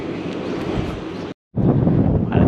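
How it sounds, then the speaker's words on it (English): Heavy wind near Border Village buffets the microphone in a loud, continuous roar, broken by a brief moment of silence before the rumble resumes. "it's pretty windy here"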